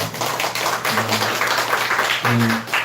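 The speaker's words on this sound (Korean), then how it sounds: "우리 격려의 박수 한번 하겠습니다." A church congregation claps in encouragement during a Sunday worship service, a steady dense patter under a voice speaking over it.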